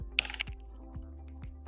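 Keys tapped on a computer keyboard during a coding session, a short cluster of quick clicks near the start and then a few isolated, sparser key presses over a low steady hum.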